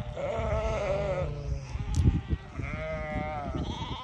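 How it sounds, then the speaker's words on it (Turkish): Sheep and lambs bleat repeatedly, several overlapping calls close by, with a steady low rumble of farm noise underneath. "Evet, kuzular ve koyunlar."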